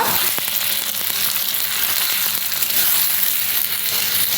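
Tomato and onion frying together in oil in a pan, a loud, steady sizzle with small crackles and pops throughout, close and uninterrupted.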